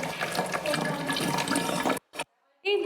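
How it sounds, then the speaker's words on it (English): Water pours steadily into a bottle during a classroom measuring activity, a continuous splashing fill for about two seconds before it cuts off, with voices talking over it. "Pour that in."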